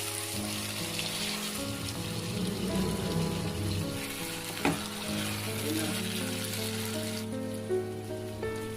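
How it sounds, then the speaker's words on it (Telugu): Cashews fry in oil in a pan for kaju fry, a steady broadband sizzle with soft intermittent stirring scrapes and a brief clack near the middle; there is no talk. "మధ్య మధ్యలో ఒక 5 మినిట్స్ నుండి 10 మినిట్స్ వరకు ఫ్రై అవ్వాలండి."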